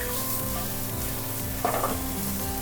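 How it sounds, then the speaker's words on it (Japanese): Mushrooms and spaghetti stir-frying in a frying pan, a loud continuous sizzle with the scrape and toss of the pan and a brief clatter partway through. "こんな感じでこう炒めてもらって、だんだんこう炒まっていったら"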